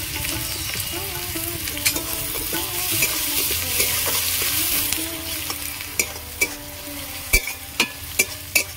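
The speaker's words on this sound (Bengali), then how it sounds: "রসুন, পেঁয়াজ, কাঁচা লঙ্কা আমি ভালো করে ভেজে নিয়েছি।" Garlic, onion and green chili frying in oil in a pan, a steady close sizzle with stirring, then a run of sharp spatula knocks and taps toward the end.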